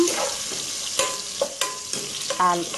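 Garlic frying in a pan as it browns for adobong tangkong, a steady close sizzle with a few clinks and stirring scrapes of a utensil against the pan.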